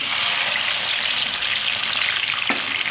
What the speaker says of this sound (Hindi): प्याज को बिल्कुल अच्छी तरीके से हमने ब्राउन करना है